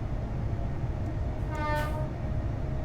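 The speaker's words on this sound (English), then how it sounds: "There's another aggregates train." An aggregates freight train rumbles past on the East Coast Main Line near Peterborough, with a loud two-tone horn blast rising briefly over the steady, close rail roar.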